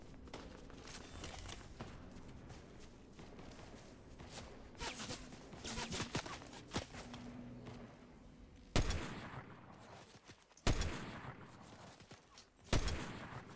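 Gunshots in Fortnite, a scattering of quick shots and footsteps at first, then three loud, sharp separate shots spaced about two seconds apart near the end.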